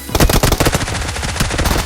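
Rapid SMG fire from the PUBG Mobile video game rattles out in a fast, steady stream of close, loud shots that runs almost unbroken for about two seconds.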